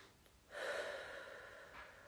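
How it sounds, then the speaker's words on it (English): A single deep inhaled breath during a guided tapping relaxation session, a soft airy rush that swells and lingers for over a second, close and unaccompanied by talk. "Take a breath in."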